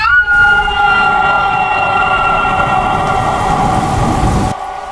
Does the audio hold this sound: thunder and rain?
yes